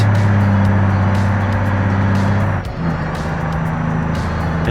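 A heavy truck engine with a 10-speed range gearbox drones steadily in BeamNG Drive, dipping briefly during a gear change before pulling again at a lower pitch, loud and continuous.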